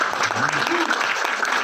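Brief burst of audience clapping, dense and fairly loud, with a voice speaking over it.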